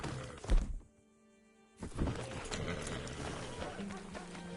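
A horse in the video game Red Dead Redemption 2 gives a short loud thump and snort, then after a brief hush its hooves clip-clop steadily under ambient noise, with a low voice or whinny tone near the end.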